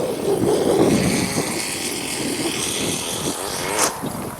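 A radio-controlled model airplane flies in gusty wind, its small engine and propeller giving a steady droning buzz that rises and falls in pitch as it passes, fairly close and continuous throughout.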